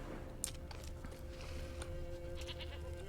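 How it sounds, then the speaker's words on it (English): A goat bleats in The Witcher 3: Wild Hunt, a few faint calls over a low in-game ambient hum. "I hear a goat."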